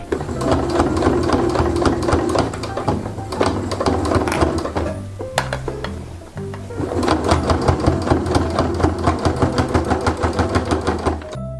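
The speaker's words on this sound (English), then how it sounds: "I'm going to take this over to the sewing machine and I'm going to top stitch it about 1/8 of an inch around" A sewing machine top-stitches fabric for a homemade baby teether gift, running in long steady bursts of rapid stitching with a short pause midway, close and loud with no talking.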